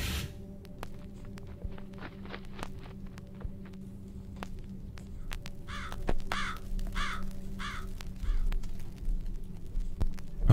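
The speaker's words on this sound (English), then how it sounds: "Or maybe it's just the crow." A crow caws repeatedly in the Jisatsu horror video game, a series of harsh, raspy calls in the middle distance over a low steady ambient hum, with faint footstep-like taps in between.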